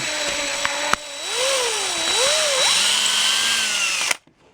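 A drill bores a hole into the hoop of a 1963 Ludwig Blue Oyster Pearl bass drum. It gives a loud, close, continuous whine whose pitch dips and rises as it cuts, then stops abruptly near the end.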